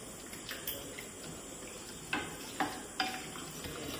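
Pasta mixed with cheese in a pan is stirred with a few distinct scraping strokes over a soft background sizzle, close and moderately loud, with no talk.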